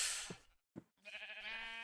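Sheep in a Minecraft TekTopia village: two brief soft thumps, then a quiet, wavering bleat held for under a second, faint and close, with no one speaking.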